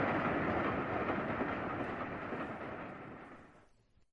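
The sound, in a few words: Polar Express train speeding away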